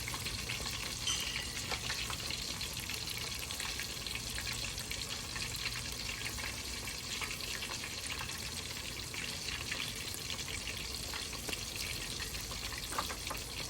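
Cajun-seasoned, river-caught catfish frying in hot oil as the pieces are flipped, giving a steady, dense sizzle and crackle throughout with a few brief splashy spikes, close and alone.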